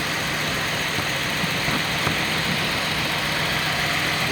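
A vintage Datsun 280Z engine idles nearby during a misfire check, a loud steady hum with a faint irregular beat throughout and no talk.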